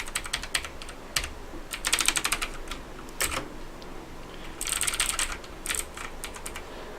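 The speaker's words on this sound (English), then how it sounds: "Alright, I'm gonna do a little typing test real quick for you guys." Typing on a Skorpion K2 RGB mechanical gaming keyboard, close-up clusters of crisp key clicks in uneven bursts with short pauses, no voices.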